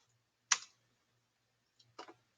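A few faint, isolated clicks of typing on a computer keyboard, one sharp keystroke followed later by a short cluster of two or three quieter taps in a quiet room.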